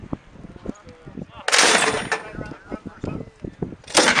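Soldiers fire single rounds from an MK-19 grenade launcher on a qualification range: a sharp, loud report near the middle, another toward the end, with light clicks and handling noise between.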